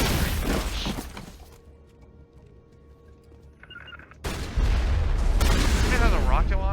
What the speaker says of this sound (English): It has a rocket launcher?